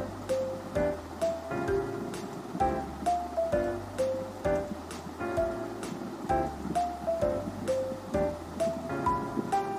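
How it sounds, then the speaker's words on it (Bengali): Rice is stirred through thickened milk for payesh, producing a repeated rhythmic scraping and sloshing pattern, moderately close and fairly soft, with no talk. "এবার আরেকটু নেড়ে দিতে হবে।"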